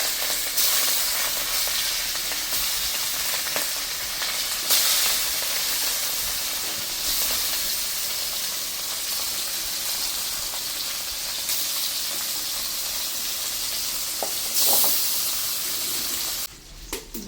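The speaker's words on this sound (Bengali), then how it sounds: "বাকি মাছগুলো ভাজা হয়ে গেছে" Small chapila river fish frying in oil, a steady loud hiss and sizzle with soft crackling that carries on throughout, ending with a few clatters, no talk.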